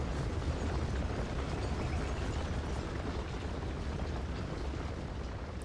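Enemy artillery shelling in the Gettysburg battle game Scourge of War rolls as a dense, continuous rumble of distant cannon fire and booms, steady and without pauses.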